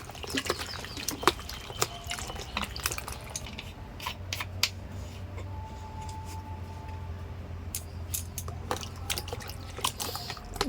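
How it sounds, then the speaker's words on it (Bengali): Fresh, tender broad beans are washed by hand in water, giving close, irregular splashes, drips and wet rubbing clicks over a low steady background hum. "তো আমি সিমগুলো ভালো করে ধুয়ে নিচ্ছি জল দিয়ে।"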